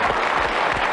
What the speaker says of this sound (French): Et les 1200 personnes qui sont massées ici sur le plateau vous applaudissent à tout rompre.